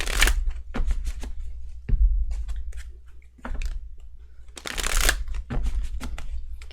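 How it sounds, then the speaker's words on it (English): Tarot cards being shuffled by hand in repeated riffling, slapping bursts with short pauses between them, close and crisp with no talking over them. "I'm going to shuffle this a little bit."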